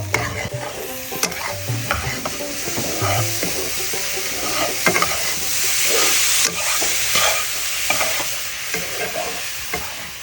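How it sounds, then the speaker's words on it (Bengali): Grated coconut and sugar cooking in a pan, a steady sizzle with repeated scraping stirs and occasional utensil knocks, close up, with a brief rise in hissing midway. "আমি চিনি দিয়ে দিচ্ছি কিছুক্ষণ জাল দিতে থাকবো"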